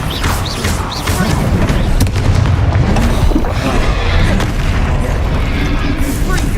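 Explosive spells from Hogwarts Legacy detonate in a dense, continuous barrage of booming blasts and crackling bursts, loud and close throughout, with shouted spell calls over the top.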